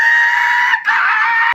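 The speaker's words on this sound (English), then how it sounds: "This is how I turned Brennan Lee Mulligan into an actual monster for Halloween." A heavily processed human voice roars like a monster creature, a harsh, bright, sustained scream with a brief break in the middle before stopping abruptly, loud and close.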